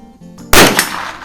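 A single sharp, close rifle shot from a first-year Mossberg 142-A bolt-action .22lr, preceded by faint handling noise and followed by a brief ringing decay.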